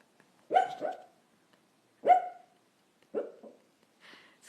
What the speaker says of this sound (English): my dog's having a nightmare. She's barking in her dreams.